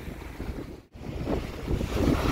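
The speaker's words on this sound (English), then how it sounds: "it's a little windy" Wind buffets the microphone while catfishing in Texas, a steady low rumble, dipping briefly to near silence before gusting back stronger, with water sounds beneath.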